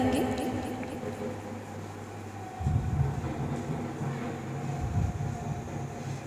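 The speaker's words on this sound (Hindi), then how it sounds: "और यहाँ पर हम सिलाई लगा लेंगे" A sewing machine stitches a blouse lining onto the main fabric of a Paithani saree blouse, giving a steady, close mechanical whir with a rhythmic low drone that shifts in intensity partway through, and no voices.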